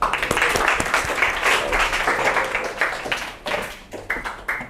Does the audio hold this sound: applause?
yes